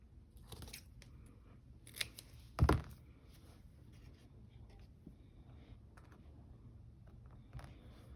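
Scissors snip pieces of paper to fit onto a canvas, a few quiet crisp cuts with one louder, sharper snip, separated by soft rustling in a quiet room.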